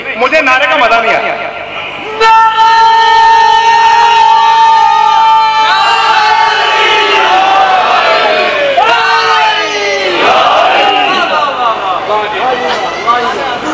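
A crowd at a Shia majlis in Sohdra chants a religious slogan in loud, drawn-out unison cries that rise and fall in several sustained waves, with many voices blending together close by.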